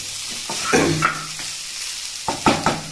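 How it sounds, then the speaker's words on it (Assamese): Onions, garlic and potatoes frying in a pan as they are stirred, a steady sizzle with a few louder scraping stirs and no voices. "এইকেইটা পিঁয়াজ নহৰু আলু ফ্ৰাই হ'ব ধুনীয়াকৈ"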